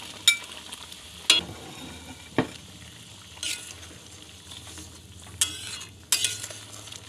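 Kofta balls dropped one after another into boiling curry water, giving a handful of sharp plops and clinks spread over several seconds above a faint bubbling background.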